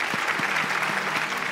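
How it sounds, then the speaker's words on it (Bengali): Enthusiastic audience applause at a televised family reality-show event, a dense, steady crackle of many hands clapping together for the whole stretch. "হাততালি হয়ে যাক।"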